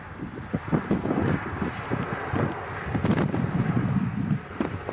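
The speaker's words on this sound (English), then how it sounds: "Matt, it sounds windy over there." Gusty wind buffets the microphone at an outdoor plane-spotting spot, a steady low rumble with stronger surges, loud and close, with no talking.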